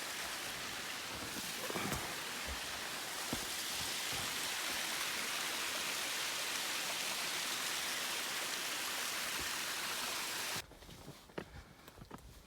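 A mountain brook flowing beside a hiking trail, a steady broad rush of water that stays loud and close before dropping abruptly to a fainter trickle near the end.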